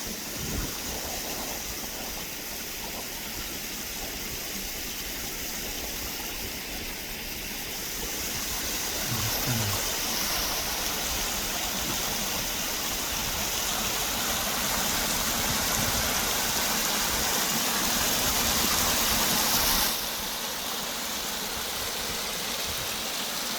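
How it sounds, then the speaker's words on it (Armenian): Drinking water pours from a broken, leaking pipe in Nubarashen and rushes away like a river, a constant loud hiss and splash that keeps going with no break. "Հենա, գետի նման է էթում է խմելու ջուրը"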